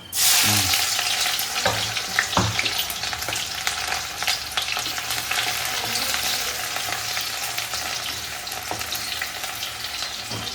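Steady loud sizzling and crackling of mustard seeds popping in hot oil, with scattered sharp pops and occasional stirring clicks throughout.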